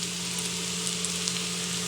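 Chilli powder, salt and garam masala frying in oil in a pan for paneer bhurji, giving a steady, close, even sizzle with faint crackles throughout, no voices.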